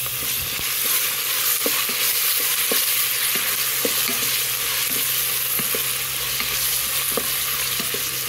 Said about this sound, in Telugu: ఇందులో కొద్దిగా అల్లం వెల్లుల్లి పేస్ట్ వేసుకుంటాం.